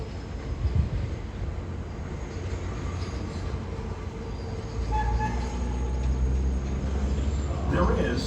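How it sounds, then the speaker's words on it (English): A Manhattan-bound local 3 train of the New York subway rumbles steadily at Junius Street station, its low rolling noise swelling louder midway as the cars run close by, with faint wheel squeal and a recorded voice speaking over it. "There is a Manhattan-bound Local 3 train to Harlem 148th Street."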